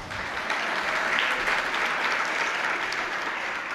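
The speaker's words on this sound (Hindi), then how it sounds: "आप लोग ऐसे ही दूसरों के लिए हमेशा ताली बजाते रहोगे" Audience applause at a Jain saint's spiritual discourse: steady, dense hall-wide clapping held at an even level for the whole stretch, with no speech over it.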